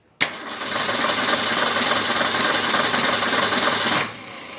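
A Ford 200 straight six engine cranks over on the starter with a loud, fast, even chugging that runs about four seconds alone, then cuts off abruptly into a quieter hum.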